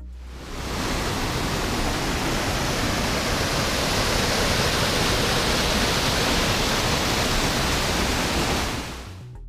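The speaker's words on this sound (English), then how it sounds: "at the foot of the mighty waterfall" A mighty waterfall in Hallstatt, Austria, roaring as a dense, constant rush of falling water close to the listener, with no voices.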